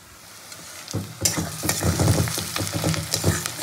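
After a quiet start, onions frying close by in a pan burst into a busy sizzle, with a utensil scraping and stirring through it.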